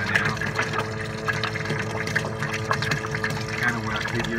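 A submersible pump runs water through a Chillzilla chiller, making a steady gushing, bubbling wash of liquid with low churning underneath, with a person's voice mixed in.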